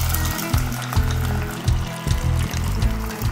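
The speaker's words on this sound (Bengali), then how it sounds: "এইবার আমরা দিয়ে দেবো এই যে চালতা আর মূলো সেদ্ধ করে রেখেছি সেইটা।" Boiled elephant apple and radish going into a hot cooking pan with dry red chilli, giving a steady close sizzle and wet frying crackle with a few soft thumps, no talking.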